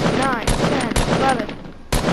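Rapid gunshots fired at a golf cart in a video game, sharp repeated reports in quick bursts with short pauses between them.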